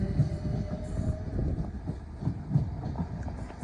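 A train of the 455 class rolls through Clapham Junction on the line to London Waterloo, a steady rumble with rhythmic wheel clatter over rail joints, moderately close, with no talking.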